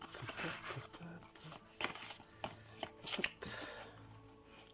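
A deck of cat-themed fantasy oracle cards is shuffled by hand, giving soft, quiet bursts of riffling and tapping in an irregular rhythm, close by with no talking.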